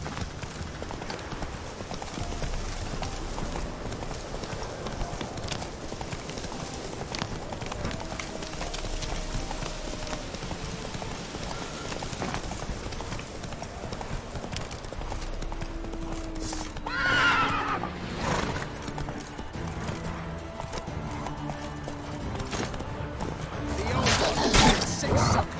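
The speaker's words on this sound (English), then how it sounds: "Come on, Roach." Hooves clip-clop steadily under a horse's whinny in The Witcher 3 video game, a mounted gallop over ambient game music, with a voice briefly speaking.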